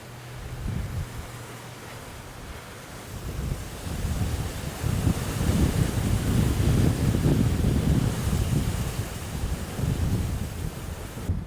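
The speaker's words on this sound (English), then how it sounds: "other than the wind and the water hitting" Strong wind buffets the microphone while waves break and wash against the shore at Madeira Beach during Hurricane Helene. The roar is steady and builds louder after the first few seconds, with no voices.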